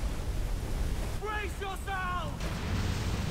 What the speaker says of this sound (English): You see this wave in front of us?